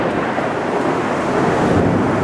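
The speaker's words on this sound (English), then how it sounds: "It is pouring, torrential downpour" Torrential downpour roars steadily and loudly outdoors for the whole stretch, a dense unbroken rush of rain with a deep rumbling undertone and wind buffeting the microphone.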